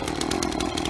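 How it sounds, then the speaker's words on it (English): A gas chainsaw engine running steadily, a buzzing, rapidly pulsing motor drone that is loud and close and heard alone. "Make sure the chainsaw is running before you put the wood."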